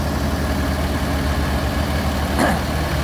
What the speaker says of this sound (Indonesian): Mesinnya masih halus.